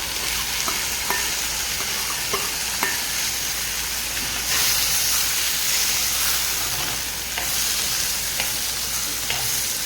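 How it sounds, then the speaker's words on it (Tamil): Chopped tomatoes and onions fry in oil for a spicy gravy, giving a dense, steady sizzle with faint stirring scrapes, close and continuous with no talking. "தக்காளி இந்த எண்ணெயிலேயே நல்லா வதங்கி வரட்டுங்க."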